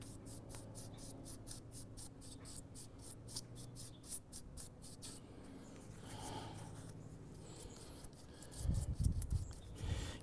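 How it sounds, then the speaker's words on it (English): A brush wipes glaze off dyed alder wood, making a quiet rapid series of rasping strokes that later slow into softer rubbing, with a low thumping near the end. "Constantly wiping the brush off to take off that glaze."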